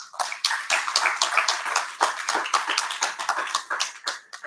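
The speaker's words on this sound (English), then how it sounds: "please give yourselves a round of applause" Small lecture audience clapping together for several seconds, a dense patter of individual hand claps close by with no one talking over it.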